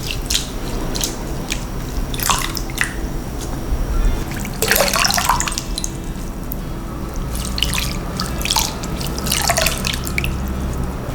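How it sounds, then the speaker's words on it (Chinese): Organic tree sprouts are washed by hand in a basin of clean water, giving steady close splashing, swishing and dripping as fingers scrub through the leaves. "用清水抓洗就可以了。"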